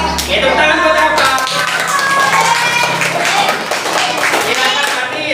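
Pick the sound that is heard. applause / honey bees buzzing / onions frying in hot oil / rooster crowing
applause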